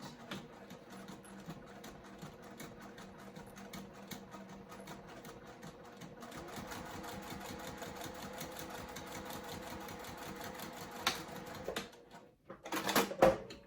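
A sewing machine back stitching through a crossbody bag with a short stitch length, running as a steady mechanical rattle that grows denser partway through and ends with a few louder clunks.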